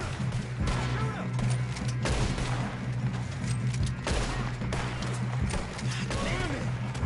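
Gunfire crackles through a Red Dead Redemption 2 shootout, with dense overlapping shots and bursts over a loud, busy mix as voices shout over the action.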